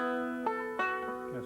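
Bright plucked banjo notes ring out in a quick rolling pattern, with a couple of sharper attacks standing out, close and clear.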